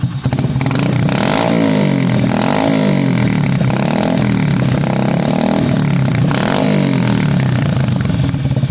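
A cheap aftermarket motorcycle exhaust on a Lexmoto revs up and down in repeated swells, a rough throaty drone that rises and falls, loud and close.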